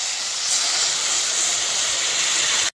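Steady, loud hiss of steam as water is poured onto hot crab masala, a continuous bright rush lasting under three seconds before cutting off abruptly.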